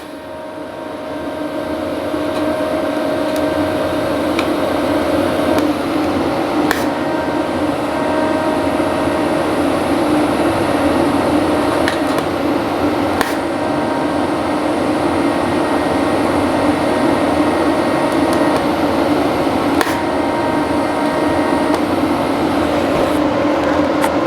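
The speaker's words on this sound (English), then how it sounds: "Right, I'll just weld this up." Arc welding powered by a 12.5 kW generator produces a steady, loud broadband buzz with a constant hum that holds unbroken for over twenty seconds, with occasional faint crackles and no voices.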